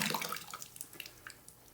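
RIT fabric dye, 8 ounces, poured into a container of water, giving a soft splashing, trickling pour that starts strongest and tapers off into scattered drips over a couple of seconds, close by with no talking.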